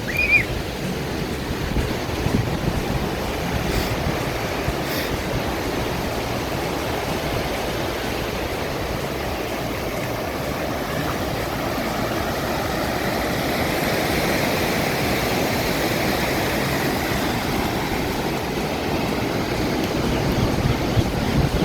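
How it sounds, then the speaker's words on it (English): Pacific Ocean surf at Santa Barbara, heard from a boardwalk area, a steady broadband wash of breaking waves that lasts throughout, with no voices. "Pacific Ocean."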